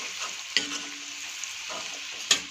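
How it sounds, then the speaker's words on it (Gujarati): Salted masala for butter paneer sizzles softly in a pan while a spoon stirs it, with two sharp scraping clinks of the utensil against the pan over a low, steady frying hiss. "આપણે આને થોડી વાર આ રીતે ચલાવતા રહીશું"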